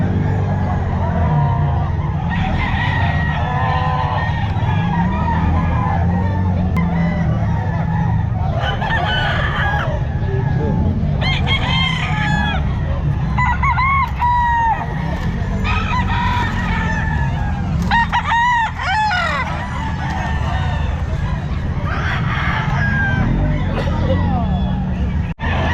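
Young gamecocks (stags) crowing repeatedly at the Bocaue pet market, several roosters calling one after another, loud and close over constant crowd babble and market noise with people talking.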